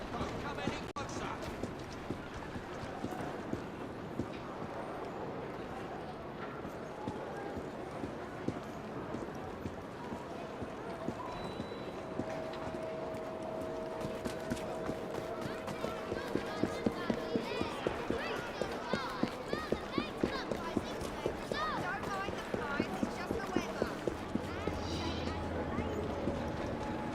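Horse hooves in Assassin's Creed Syndicate, clip-clopping at a moderate pace and growing more distinct in the second half, set against a low game ambience with a voice speaking at times.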